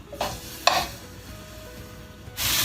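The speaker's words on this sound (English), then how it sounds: "those chicken pieces should start sizzling as soon as we drop them in" A couple of soft scrapes, then a loud, bright sizzle bursts up as chicken pieces hit hot oil near the end.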